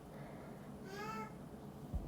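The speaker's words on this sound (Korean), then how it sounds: "우리 고양이." A house cat gives a single faint, drawn-out meow, half-buried under steady background hiss in a quiet room.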